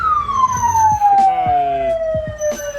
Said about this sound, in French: Là il y a 5 camions pompiers devant